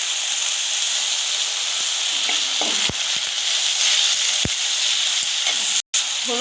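Ginger-garlic paste and cumin powder hit fried onions in a pan for an egg curry, making a dense steady sizzle with sharp stirring scrapes and clicks and a brief dropout near the end.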